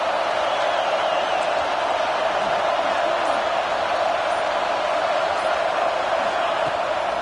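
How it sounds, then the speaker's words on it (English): Stadium crowd at a Georgia Tech versus Florida college football game roars on a third-down defensive stand, a continuous dense wall of cheering at steady loudness with a commentator's voice faintly over it. "decibels rising as the crowd gets behind this defense on third down"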